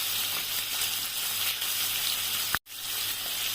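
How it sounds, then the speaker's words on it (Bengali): Rohu fish pieces sizzle steadily in hot oil in a home kitchen, a loud continuous crackling fry with a brief sharp break near the end before the sizzle resumes. "মাছগুলো সব ভেজে নিয়ে"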